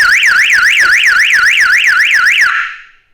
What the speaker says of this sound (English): we're taking this old security alarm and we're now hooking it up as a secondary horn